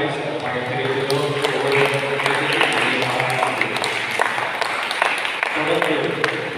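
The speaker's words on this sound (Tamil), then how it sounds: "கைத்தட்டி உங்களை பாராட்டுகளை சிறப்பாக தெரிவிக்கிறோம்" A church congregation applauds to honour the women present, a dense, steady clatter of many hands that runs throughout, with a voice faintly audible underneath.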